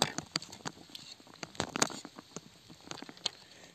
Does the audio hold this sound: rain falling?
yes